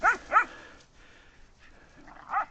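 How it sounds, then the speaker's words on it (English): A dog barks twice in quick succession, close and loud, then falls quiet before a third bark near the end, in a playful, frustrated way while running with other dogs outdoors. "She keeps barking."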